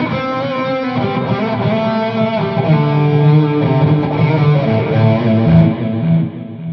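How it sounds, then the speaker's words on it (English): An electric guitar lead tone with echo, played through a Synergy amp rig, sustains bright, distorted melodic notes at steady loudness, the repeats trailing behind each phrase before it fades near the end. "And number two here would be my lead sound, so it's got a bit of a echo on it."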